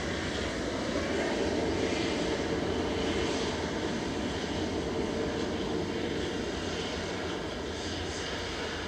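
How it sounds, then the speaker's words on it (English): A Scandinavian Airlines Airbus A320 from Stockholm Arlanda approaches Manchester Airport to land, its engines a steady, moderately distant roar with a faint rising whine, no voices present. "Arlanda, flight 2547, operated by OYKAS today. A320 Classic that's coming in"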